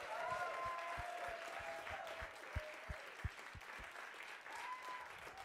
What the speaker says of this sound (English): One more gigantic round of applause for all of these amazing,